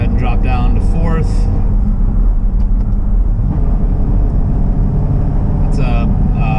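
A Chevrolet C6 Corvette cruises with a steady low engine drone and road rumble while downshifting from sixth to fourth gear, and a voice talks over it in short bursts.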